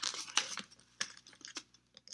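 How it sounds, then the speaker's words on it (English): Sheets of paper being folded and creased into a paper airplane dart, a few soft crinkles and sharp creasing rustles in short bursts, close and quiet with no talk. "then I'm folding along this edge"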